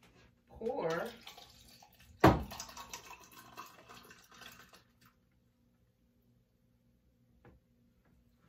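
Holiday punch poured over ice cubes, a close splashing stream with a sharp clink at the start that runs for a couple of seconds and tapers off, with a voice talking over the start.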